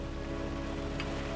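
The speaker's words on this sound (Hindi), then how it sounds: "बारिश हो रही है" Rain falls as a steady, even hiss with a low continuous background hum, faint and unbroken over a short stretch with no voices.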